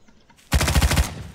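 A FAMAS rifle from the Garry's Mod M9K weapons pack firing a quick automatic burst of about seven loud, evenly spaced shots after a short quiet lead-in.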